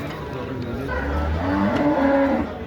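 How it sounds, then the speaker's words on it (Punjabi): Cows and buffaloes low and moo repeatedly amid a busy livestock market pen in Dabwali, with deep bellowing calls overlapping and faint background chatter throughout. "ਗਾਈਆਂ ਮੱਝਾਂ ਆਹ ਪਰਲੇ ਖੜਿਆ ਜੰਗਲੇ 'ਚ"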